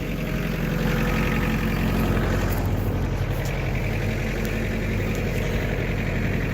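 A New Holland 56 hay rake runs in gear, giving a steady, close mechanical drone with an engine-like hum and vibration that holds level and continuous throughout, with no voices.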